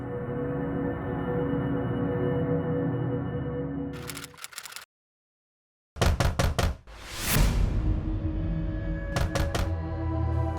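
Sharp, loud knocking on a door comes in several separate bursts of quick raps, some of them split by a brief silence, set over a steady background sound from a TV crime drama scene.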